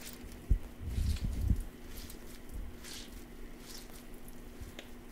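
Hands squeeze water out of a bunch of greens with hard stems, giving a short run of soft, wet squishes up close, followed by faint drips and quiet handling.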